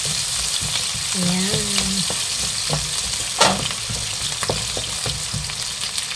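Onions frying in a pan for pancit canton, a steady close sizzle with stirring scrapes and a sharp clank partway through; a voice speaks a brief word early on.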